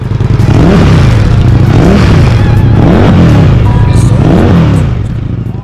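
An Indian FTR 1200S motorcycle engine revving hard several times in a row, loud and close, each rev rising and falling in a deep rumbling roar.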